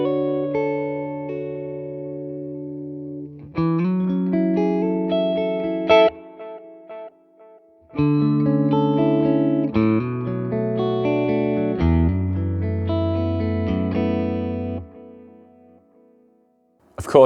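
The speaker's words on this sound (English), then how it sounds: "you're going to get all of those authentic sounding tape delay effects here" Electric guitar run through a Morgan Amps Suite tape delay plays sustained chords and picked notes in several phrases, each trailing into soft repeating echoes, loud and close with short gaps between passages.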